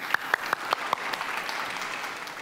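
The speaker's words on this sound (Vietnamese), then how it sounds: "Dành một tràng vỗ tay cho nghệ sĩ sáo trúc Đinh Nhật Minh." Audience applause for a bamboo flute performer on a Vietnamese TV show, opening with a handful of sharp, evenly spaced loud claps before settling into a softer, continuous patter of many hands.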